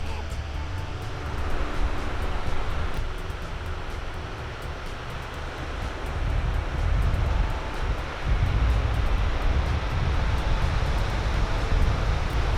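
Waves wash against the shore of Porter's Lake under steady gusting wind, a continuous rumbling surge with some wind buffeting on the microphone.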